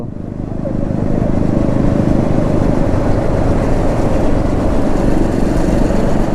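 Honda CBR sport motorcycle engine idling and revving at a rider meetup in Kolkata, a steady loud rumble that swells in the first second and then holds continuously, with no speech over it.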